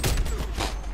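Rapid gunfire from Call of Duty Cold War, a dense burst of overlapping shots filling the whole moment, loud and close.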